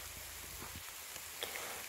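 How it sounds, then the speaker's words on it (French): Very heavy rain falling in a forest during a summer cep mushroom hunt near Bordeaux, a dense steady hiss with scattered drops pattering on leaves close by, and no talking. "là il pleut extrêmement fort"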